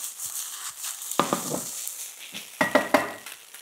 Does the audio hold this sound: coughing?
no